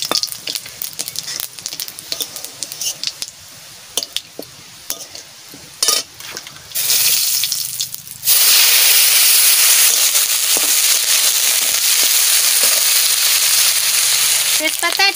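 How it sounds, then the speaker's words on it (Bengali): Five-spice seeds hit hot mustard oil with a sudden, loud, steady sizzle that swells and continues to the end, after a stretch of clinks and stirring noises in the pan. "সরষের তেল দিয়ে দিচ্ছি। আমি 5 ফোড়ন দিয়ে দিচ্ছি।"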